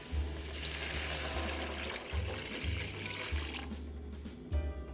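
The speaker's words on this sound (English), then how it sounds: "I'm going to go ahead and add about 8 ounces of water" Water runs steadily for several seconds, a continuous gushing splash like liquid poured from a tap into a vessel, with a low hum underneath.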